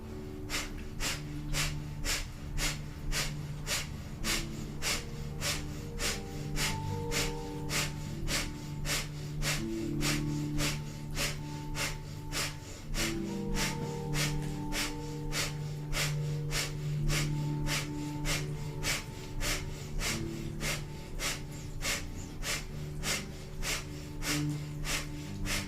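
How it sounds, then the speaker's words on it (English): Rapid, rhythmic breath of fire in a Kundalini yoga ab-strengthening kriya: quick, forceful panting through the nose, evenly pulsed for the whole stretch over a steady background of soft music. "We're gonna continue breath of fire for a minute here. So just panting like a dog through the nose"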